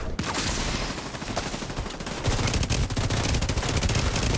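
Rapid automatic gunfire in a shooter video game, dense loud bursts of shots that thicken into near-continuous firing in the second half.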